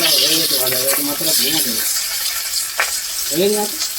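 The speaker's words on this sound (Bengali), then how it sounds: "মাছটা ভাজা হয়ে গেছে নামিয়ে নিচ্ছি" A hilsa fish head fries in a pan with a bright, steady sizzle under the sound, while people talk over it in short bursts near the microphone.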